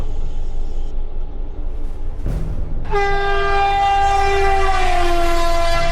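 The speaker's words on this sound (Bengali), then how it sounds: "বিদ্যুৎ বেগে ট্রেন ছুটে চলেছে" A train roars along at speed with a steady heavy rumble, then a long loud horn blast sounds and holds to the end.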